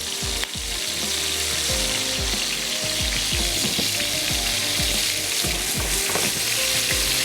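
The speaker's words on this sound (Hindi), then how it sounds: "इसको फ्राइंग पैन में निकाल के आप अच्छा सा भून लें" Chicken chunks sizzle steadily in a frying pan for Pakistani patakha chicken, a loud continuous crackle with intermittent scraping and stirring clatter from a utensil against the pan.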